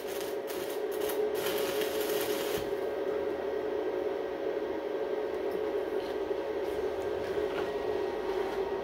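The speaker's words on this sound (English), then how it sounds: "He's just on the edge trying to weld a washer." Arc from a YESWELDER ARC-205DS 205 amp digital inverter stick welder on 110 volts, running a bead around a washer: a steady, continuous crackling hiss held close and fairly loud, with a few sharper pops at the start and no talking.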